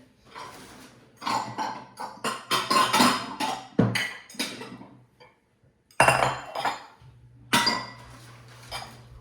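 Bowls and dishes clink and clatter in irregular bursts, ceramic knocks and scrapes close up, with brief pauses between handling.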